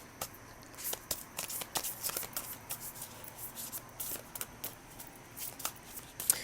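A tarot card deck being shuffled up close, with repeated quick riffling and slapping bursts in an uneven rhythm, no voices.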